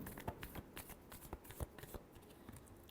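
Tarot deck being shuffled close up, a continuous run of quiet papery slaps and flicks at an uneven rhythm, faint and without speech.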